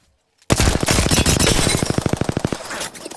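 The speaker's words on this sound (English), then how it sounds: "Team shooting at you guys." Rapid automatic gunfire in the Apex Legends video game rattles off in a fast, even burst of about twenty close, loud shots after a brief silence. It stops abruptly, leaving a short decaying tail.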